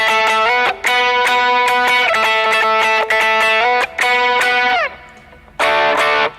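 Distorted electric guitar plays a sustained, boosted lead riff from a solo, with ringing held notes, drops out briefly near the end, then returns loud and saturated.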